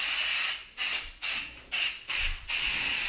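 An aerosol flea spray can releases five quick bursts in a row indoors, each a sharp hiss that cuts off briefly before the next, close to the microphone.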